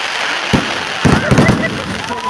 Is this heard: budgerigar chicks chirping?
no